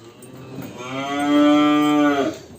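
A cow in a barn gives one loud, close, drawn-out moo lasting about two seconds, rising and then fading, with no talking over it.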